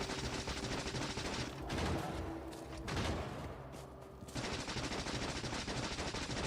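Rapid turret fire in a video game, a dense stream of fast shots rattling continuously with two brief lulls, fairly quiet overall and without talk over it.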